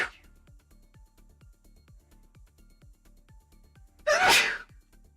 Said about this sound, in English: Oh, gotta sneeze.